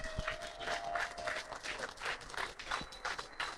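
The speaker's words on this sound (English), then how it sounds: "give him a round of applause" Applause from an audience at a business award presentation, a short burst of uneven clapping with a few louder claps, moderately close.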